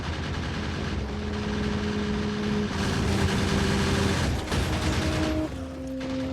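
Gun turrets in Factorio fire steadily at attacking biters, a dense continuous rattle of automatic fire with engine-like hum and rising tones, loud and without pause throughout.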